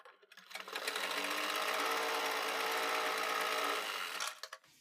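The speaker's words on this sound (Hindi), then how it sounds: "ऊपर की तरफ हम एक पैर की सिलाई लगा देंगे" A sewing machine stitches a seam on a kurti collar, a close, continuous rapid mechanical whir for about four seconds, starting and stopping cleanly with a few clicks at each end, with no talk.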